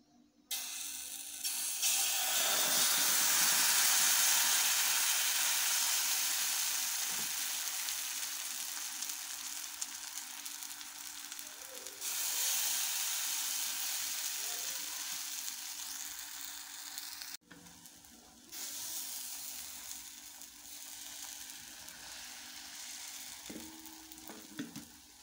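Egg and milk paratha batter poured into an oil-greased pan, setting off a loud, continuous sizzle that slowly settles and swells again over a long stretch, with faint scraping and clicks, no voices.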